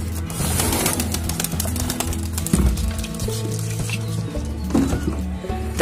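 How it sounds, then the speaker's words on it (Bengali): Pigeons just let out of their rooftop coop coo and rustle close by, a busy layered murmur of calls with soft wing and foot patter throughout. "এখন দেখতে পাচ্ছ পায়রাগুলো সব ছেড়ে দিয়েছি"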